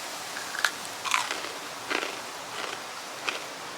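Crisp, crackly crunches from bites into freeze-dried candy come in four separate bursts spread unevenly over a few seconds, close up with no talking.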